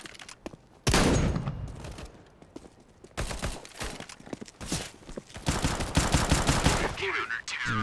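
Counter-Strike: Global Offensive gunfire: loud, close bursts of rapid automatic shots and single cracks, coming in repeated volleys with brief gaps between them.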